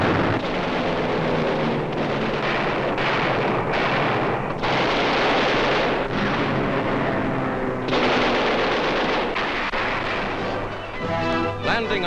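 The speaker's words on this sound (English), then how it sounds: "Japanese airfields on Mindanao and other land installations are plowed up by explosives" Wartime newsreel footage of explosives plowing up Japanese airfields and land installations on Mindanao in the Philippines: a dense, continuous barrage of blasts and rumbling detonations runs loud for twelve seconds, with a narrator's voice partly layered over it.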